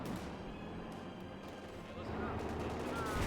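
A Panzerkampfwagen tank firing in Company of Heroes 2, booming shots under a steady battle rumble with a commentator talking over it.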